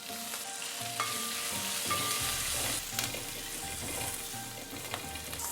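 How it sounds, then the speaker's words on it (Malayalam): Curry leaves and home-grown green chillies sizzle and crackle in hot oil in a frying pan, a continuous close frying hiss with occasional stirring scrapes and small pops, no voices. "ഇനി കുറച്ചധികം കറിവേപ്പില ഇട്ട് കൊടുക്കുന്നുണ്ട്"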